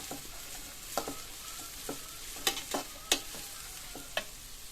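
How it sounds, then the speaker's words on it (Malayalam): Onions sauté in a pan for Thalassery chicken curry, a gentle continuous sizzle punctuated by irregular spatula scrapes and taps against the pan, close by. "ഇത് നല്ലപോലെ ഒന്ന് വഴറ്റിയെടുക്കാം"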